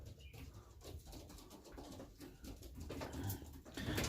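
Racing pigeons back at the loft after an old-bird race make faint cooing and shuffling sounds, with a brief flutter of wings, all quiet and close.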